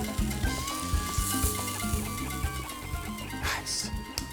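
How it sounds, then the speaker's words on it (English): Chicken thighs searing in a hot pan, a loud continuous sizzle with scraping and clinks layered over it, close and busy throughout. "Nice little sear to it."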